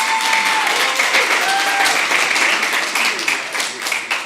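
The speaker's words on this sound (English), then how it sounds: "Please give a big round of applause to Victoria Anchondo." An audience at a Ysleta ISD school board meeting applauds an award winner from Ysleta High School, dense, sustained clapping filling the room from start to finish.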